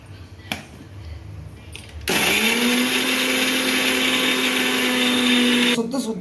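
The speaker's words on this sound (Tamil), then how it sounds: "தேங்காய் சீரகம் பச்சை மிளகாய் இதை வந்து பொடி பொடியாக நறுக்கியிருக்கேன் இதை வந்து அப்படியே கொஞ்சம் அரைச்சிக்கிடலாம்" A mixer grinder grinding coconut, cumin and green chilies starts abruptly and whirs loudly and steadily for about four seconds, then stops; faint clatter before it begins.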